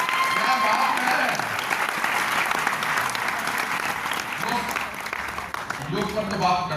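A large crowd at a Mumbai speech event applauds a yoga group with steady, full clapping, while someone speaks over the applause.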